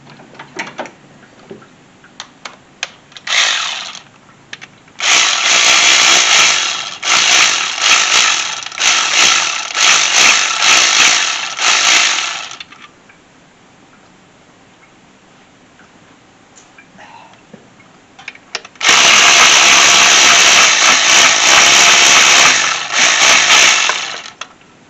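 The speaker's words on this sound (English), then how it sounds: "start removing the bolt that holds the intake manifold" A power ratchet tool buzzes in long, loud, close bursts while removing intake manifold bolts on a 2006 Toyota Highlander V6, with two sustained runs separated by a quieter pause of faint handling noise.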